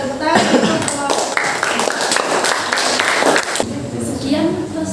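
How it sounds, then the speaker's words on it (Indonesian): Classroom applause in a school lesson setting, a dense burst of clapping from a group of students that runs for several seconds and then cuts off, with voices following. "tepuk tangan untuk kelompok"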